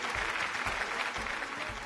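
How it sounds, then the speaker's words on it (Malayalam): A studio audience on the Kerala game show Super Bumper claps for contestant Rachana, giving a dense, steady burst of applause throughout, close and full. "നമ്മുടെ നാടിന്റെ അഭിമാനം രചനയ്ക്ക് നല്ലൊരു കയ്യടി."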